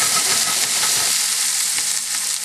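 Caramelized Brussels sprouts shaken and rolled around in a hot pan, giving a loud, steady sizzle and frying hiss that continues throughout, with a brief scrape of movement early on.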